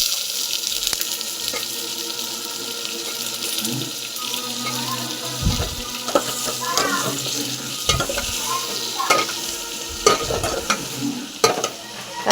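Tomatoes go into a pan of sautéed onion and green chilli for pegangai kadaiyal, a steady close sizzle broken by intermittent scraping stirs and clinks of the spoon against the pan.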